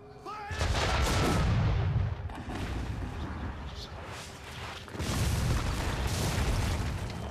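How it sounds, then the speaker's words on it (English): Cannon fire from a ship in Assassin's Creed 3, with loud booming blasts near the start and again around the fifth second, each followed by rumbling, crackling battle noise. "I got a ship with cannons"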